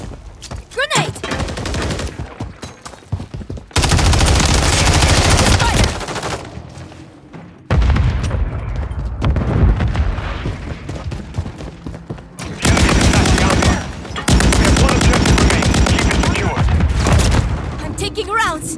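Dense bursts of automatic gunfire and booming explosions from a Call of Duty MW3 match come in several loud waves, with game voice callouts heard over the shooting.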